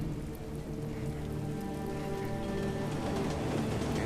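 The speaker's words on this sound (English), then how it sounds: "And it's still raining." Steady rain in the video game Hitman: Absolution patters on surfaces, a dense, even hiss with droplets spattering nearby and a low, sustained hum in the background. No voices.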